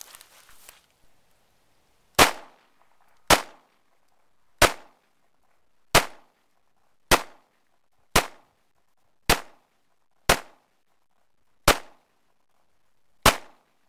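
Jimenez Arms JA Nine pistol firing ten sharp, loud single shots at a slow, fairly even pace about one second apart, with faint noise before the first shot.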